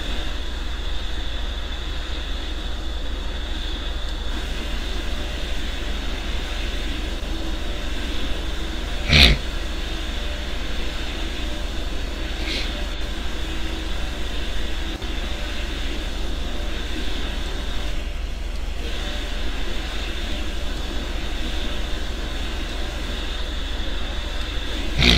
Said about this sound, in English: Triple 7 begins its approach to the runway.